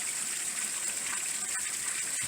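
Water from a hose gushes through the engine of a Datsun 280ZX during a rust flush, a steady close hiss and rush with small gurgling bursts.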